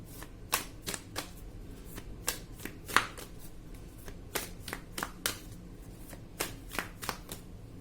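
Oracle cards being shuffled during a love tarot reading, a steady run of crisp riffling slaps and flutters repeating at close range, with no talking.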